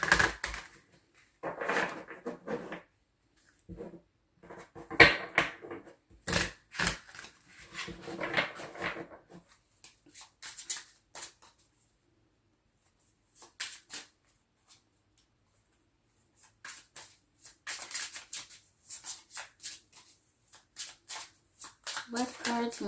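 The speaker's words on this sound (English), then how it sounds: "And we shuffle." A deck of tarot cards is shuffled by hand in bursts of quick riffling clicks and soft slaps, broken by pauses, with no talk over it.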